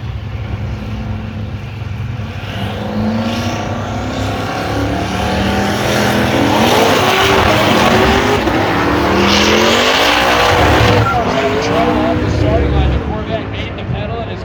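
Race cars roar past at full throttle during a roll race at a TX2K event, their engine notes rising and sweeping as they accelerate by, loud and close, with a commentator talking over the noise.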